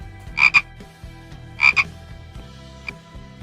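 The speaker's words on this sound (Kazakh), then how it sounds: "бақа" A frog gives two loud, close double croaks about a second apart, then a fainter single croak, over a quiet sustained tonal background.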